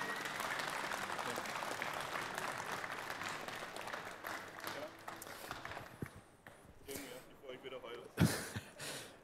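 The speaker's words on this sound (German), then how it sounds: "Also nochmal bitte einen großen Applaus" Applause from the audience at a German casemod championship event, continuous clapping that thins out partway through, then footsteps and handling knocks with some voices in the background.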